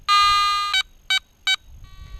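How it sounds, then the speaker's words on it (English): A Garrett ATX metal detector finishes its frequency scan: one long electronic tone followed by three short, evenly spaced beeps, loud and close. "The beep, beep, beep."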